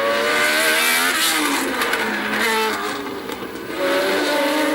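Turbocharged Renault and other Formula 1 cars at the 1981 Argentine Grand Prix in Buenos Aires, a loud continuous high engine whine with pitch sweeping as cars pass, sustained throughout with a brief dip near the end.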